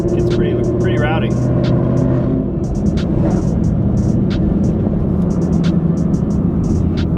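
Rumbling exhaust of a 2019 Ford Mustang GT V8 with 1 7/8-inch long tube headers and a Solo Performance exhaust, a steady loud drone running throughout with engine harmonics, with a person talking over it.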